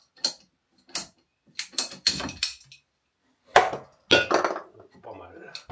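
Metal shears cut sheet material for an extra-large shower build in a series of short, sharp crunching snips, coming in irregular bursts close by with quiet gaps between them.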